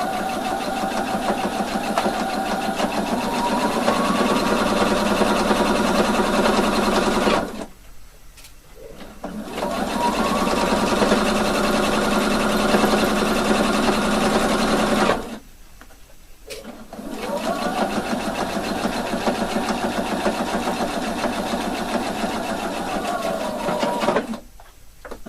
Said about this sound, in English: So, sewing all the way around 1/2 centimetre.